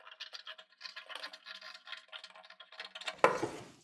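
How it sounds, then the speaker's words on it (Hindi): Scissors trimming the extra fabric margin of a collar kurti, a quick run of small rhythmic snipping and rustling close by, ending in a louder clack. "एक्स्ट्रा मार्जिन को हम 1/4 इंच का कपड़ा छोड़ करके कटिंग कर देंगे"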